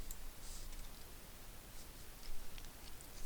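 Faint, sparse clicks of a computer mouse tap out a few times in a quiet room, soft and close with no voices.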